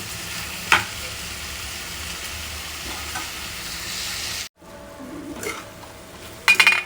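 Tomatoes cook in a pan for paneer butter masala, giving a steady soft sizzle with faint stirring and a couple of light clinks of a utensil against the pan.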